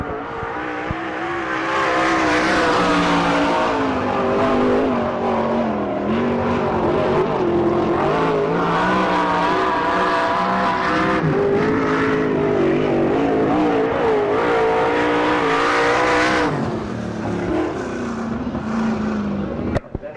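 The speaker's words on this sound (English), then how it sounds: "The Mouse coming on to the raceway now in car number 6" A sprint race car engine revs steadily on a dirt raceway during a Western PA Speedweek event, a loud sustained drone with rising and falling pitch as the car comes onto the track.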